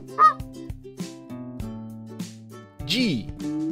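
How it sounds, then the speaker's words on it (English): A flamingo gives a honking call in a children's animal-alphabet setting, with a loud nasal honk rising and falling late in the sequence after several shorter tonal sounds. "Flamingo."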